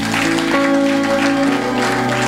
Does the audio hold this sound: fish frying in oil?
no